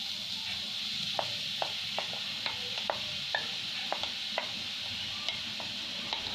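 Carrots frying in melted pure ghee in a pan, heard as a steady close sizzle with sharp spatters and clicks of stirring scattered through, no voices.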